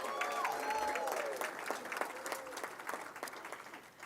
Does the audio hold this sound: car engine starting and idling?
no